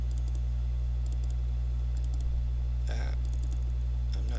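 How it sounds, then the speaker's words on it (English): Computer mouse clicks over a steady electrical hum, with quick paired clicks spaced through the stretch, some light and a couple sharper. "I'm not double clicking here correctly."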